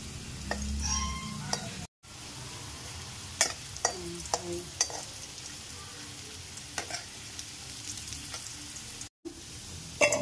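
Potato pieces fry in a pan with a soft, steady sizzle, broken by several sharp clicks and scrapes of stirring.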